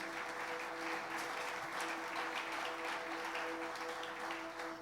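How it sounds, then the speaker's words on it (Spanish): A church congregation applauds during a sermon: continuous, even clapping from many hands, moderately distant and fairly soft, with a faint steady tone beneath. "Gracias por ese aplauso."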